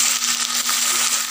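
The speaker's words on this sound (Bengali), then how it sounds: "এবার মাছটা এখান থেকে ভালো করে ভেঙে নেব" Close, sizzling crackle and crunching as a fried katla fish head is broken apart in a pan for moong dal, a steady gritty rasp with a faint hum underneath and no voices.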